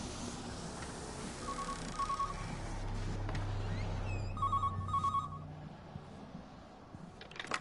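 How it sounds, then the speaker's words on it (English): A telephone rings in short double bursts in the video game Everybody's Gone to the Rapture, two rings spaced a few seconds apart over a low ambient hum. "I hear a phone."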